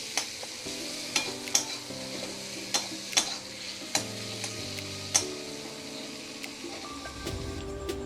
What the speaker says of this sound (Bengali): দিয়ে ভালো করে নাড়বো, একটু মশলাটা ভেজে নেব ভালো করে।